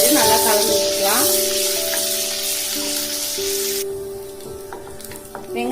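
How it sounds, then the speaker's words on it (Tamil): Sliced onions sizzle in hot oil with popped mustard seeds, a bright steady frying hiss that drops off partway through, with a few soft stirring knocks and a sustained tonal hum underneath. "கடுகு நல்லா பொரிஞ்ச பிறகு நீல வாக்கில கட் பண்ண வெங்காயம் சேர்த்துக்கோங்க"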